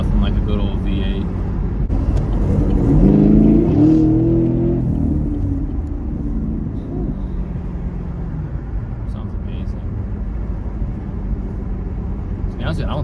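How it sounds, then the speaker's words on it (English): A 2017 Chevrolet Camaro 1SS V8 revs hard and accelerates from inside the cabin, giving a deep rising growl that settles into a steady cruising drone. A voice talks over it throughout. "Nothing like a good old V8."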